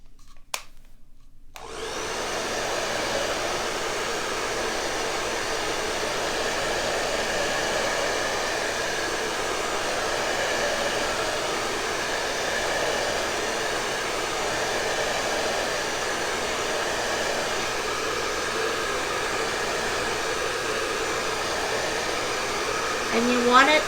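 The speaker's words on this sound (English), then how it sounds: "I'm going to take my blow dryer and I have it on a cool setting" A handheld blow dryer set to cool blows steadily and close by for about twenty seconds while drying part of a baking project, a constant airy whoosh with no talking.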